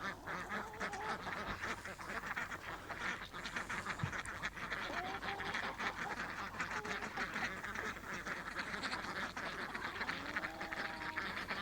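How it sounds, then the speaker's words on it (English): Ducks quacking repeatedly in a busy outdoor chorus, with other bird calls mixed in at a steady moderate level throughout. "Here the ducks are coming around"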